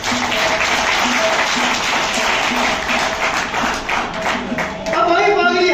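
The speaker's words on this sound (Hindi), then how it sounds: "जोरदार तालियां साथ साथ" Loud, dense audience applause at a college event in Jaipur, a continuous close wash of many hands clapping with fast rhythmic taps mixed in, briefly dipping before swelling again near the end.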